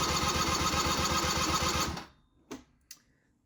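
Engine of a 2001 Hyosung Sense scooter cranking at full throttle during a compression test: a rapid, even, loud whirring churn for two seconds, then it stops, followed by two short clanks.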